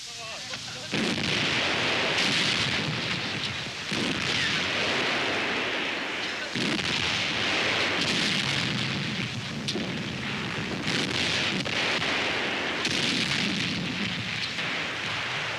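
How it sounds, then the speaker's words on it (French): Artillery barrage supporting an assault on Soviet bunkers: a dense, continuous roar of booming fire and blasts, loud and sustained throughout with overlapping rumbling impacts. "Die eigene Artillerie unterstützt das Unternehmen durch einen Feuerüberfall."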